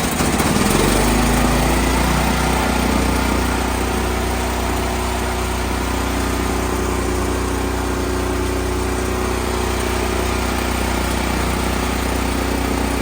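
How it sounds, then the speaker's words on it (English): A 439cc generator engine converted to run on natural gas runs loud and steady nearby, with a constant droning hum throughout. "this is a 439cc engine, you're going to get that kind of loud noise when it goes."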